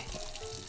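Running tap water makes a brief, steady hiss that fills the whole short moment, with no voices over it.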